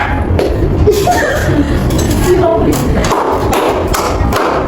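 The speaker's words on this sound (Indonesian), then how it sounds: "Tepuk lebah." A third-grade class plays the 'tepuk lebah' clapping game in a classroom: a chorus of children's voices chants with scattered, uneven claps and thumps, fairly loud and close.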